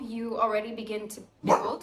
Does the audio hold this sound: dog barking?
yes